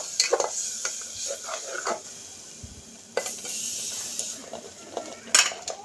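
Masala of ginger-garlic paste and ground tomato frying in a pan while a spoon stirs it, with irregular scraping knocks against the metal over a soft sizzle.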